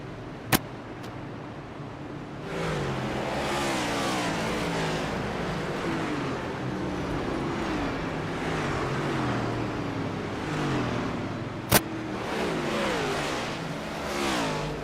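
Race cars on the oval at Chicagoland Speedway in the IWM Cup Series, a pack of engines droning and revving as they sweep past, loud and continuous, with two sharp clicks standing out.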